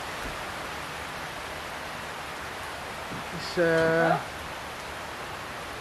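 Heavy rain pouring down outdoors on Curaçao, a loud, steady broadband hiss throughout, with a short voice speaking briefly over it partway through.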